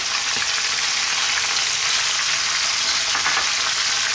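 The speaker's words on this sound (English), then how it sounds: "we're going to add in our onion" Chopped onion sizzles and fries in a pan alongside browned lamb for an Indian-style methi gosht curry, a steady, loud crackling hiss with no talk.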